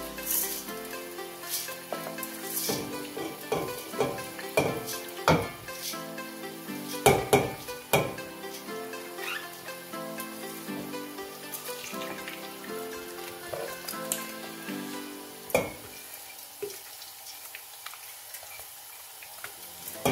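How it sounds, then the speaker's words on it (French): Rice frying in oil in a saucepan, a steady sizzle with scattered crackles and sharp clinks as it is stirred, close and continuous throughout with no talking. "on va commencer à griller, on va griller le riz."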